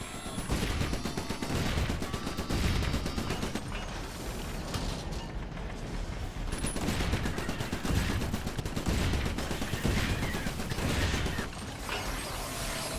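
A shotgun turret in the trench-defence game Re-Trenched fires in a dense, continuous run of loud gunfire bursts with mechanical clatter throughout, no talking over it.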